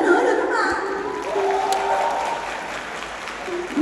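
A crowd at a live flood-relief charity concert applauds and cheers, a broad continuous roar of clapping with a voice briefly audible over it early on.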